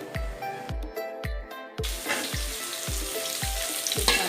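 Sliced onion sizzles in hot oil in a pan while cooking Medan-style mie gomak, a steady frying hiss punctuated by regular low thumps about every half second, swelling louder after the first couple of seconds.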